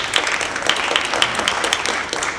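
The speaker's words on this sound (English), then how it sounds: "please, a big round of applause for our families" Applause from an audience at a board of education meeting, a steady, moderately loud patter of many hands clapping in a room, with no talking.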